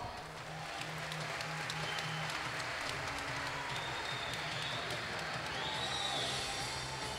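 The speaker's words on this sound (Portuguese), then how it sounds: "Uma salva de palmas." A crowd at a kickboxing event applauds and cheers continuously in a large hall, a dense roar of clapping with voices mixed in.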